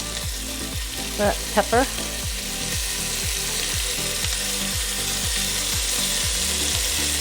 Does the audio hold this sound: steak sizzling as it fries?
yes